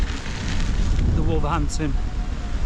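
Strong wind buffeting loudly with a low roaring rumble beside a canal while riding a Gotway electric unicycle, as someone speaks briefly over it.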